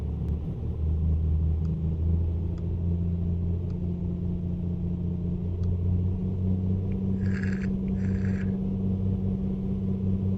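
Piper PA-24 Comanche engine in Microsoft Flight Simulator 2020 held at a run-up of 2,000 RPM, a steady, loud droning rumble with a few faint clicks and a brief beeping tone.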